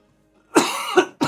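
A man coughs twice in quick succession, close and fairly loud, with a short pause between the bursts and no talk around them.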